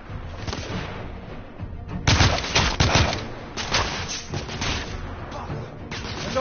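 Gunfire rattles in the video game The Order: 1886, with dense overlapping bursts of shots and impacts in a loud, continuous battle mix, swelling and easing over several seconds.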